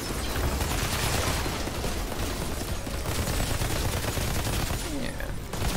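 Dense, continuous automatic gunfire from a deployed turret in the shooter game Outriders, a steady loud rattle of rapid shots filling the whole stretch with no pauses.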